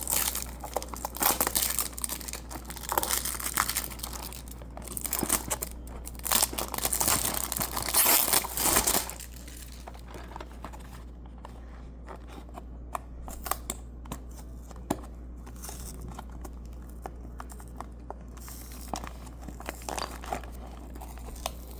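Packaging for a Blokees Galaxy Version toy box is opened and crinkled up close, with busy crackling and rustling for the first several seconds, then sparser, quieter crinkles and handling over a low steady hum.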